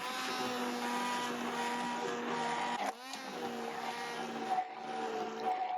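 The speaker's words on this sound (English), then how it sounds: "we're gonna go in with the immersion blender and blend it up all smooth" An immersion blender runs steadily through a hot jar of boiled sea moss, a continuous motor whine with a brief dip near the middle as the blade shifts, then resumes smoothly to the end.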